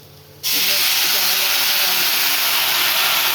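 Water poured into a hot pan of light fish curry sets off a sudden loud, steady hiss of steam that keeps going after a quiet start, with a faint voice underneath.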